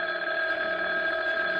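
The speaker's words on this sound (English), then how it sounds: "Oh, there's the phone." An old telephone bell rings continuously and loud, a steady metallic trill filling the room at close range with no voices over it.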